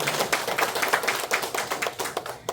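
An audience at a lecture gives a short round of applause for the True Parents, fairly steady clapping with a few louder individual claps that thins out toward the end.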